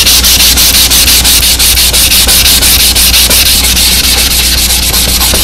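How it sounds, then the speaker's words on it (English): A Norwex micro cleaning hand pad is rubbed hard against a porcelain sink, producing loud, continuous close-up scrubbing in quick back-and-forth strokes with no voices. "So then I'm just going to rub this in here."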